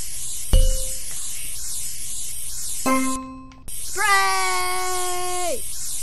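In the video game Cleaning Simulator, a water sprayer blasts dirt piles with a continuous loud hiss running the whole time, joined by sharp tonal game effects and rising-falling electronic tones.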